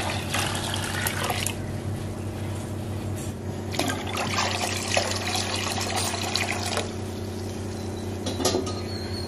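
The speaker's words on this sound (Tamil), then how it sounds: "இப்ப இந்த ஸ்டேஜ்ல வந்து மீதம் உள்ள தண்ணியையும் நம்ம வந்து ஊத்திக்கலாம்" A steady stream of water pours and splashes continuously into a cooking pot, a constant liquid rush with small gurgles throughout.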